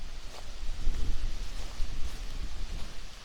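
Wind blows across open, scenic countryside beside a collapsed building on a wooded rural property, a steady low buffeting rush with gusts swelling and fading over a few seconds and no voices.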